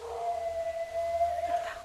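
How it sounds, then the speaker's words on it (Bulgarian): A dog howls in one long, sustained, wavering tone at moderate distance during a stage performance of Chekhov's The Seagull, over a low steady background hum. "Кучето пак вие."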